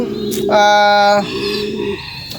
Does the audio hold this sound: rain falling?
no